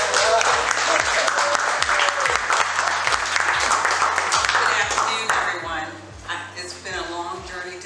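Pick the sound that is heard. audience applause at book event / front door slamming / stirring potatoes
audience applause at book event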